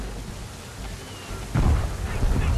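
Storm weather at sea in the video game Assassin's Creed III: wind and rain hiss steadily, then a heavier rumbling gust rises about halfway through and holds.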